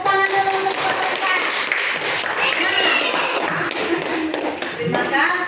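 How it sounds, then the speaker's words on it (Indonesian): A primary school class claps for a group of fourth-grade presenters, giving brisk, close, uneven applause that runs throughout, with scattered voices mixed in. "Tepuk tangan dulu untuk mereka"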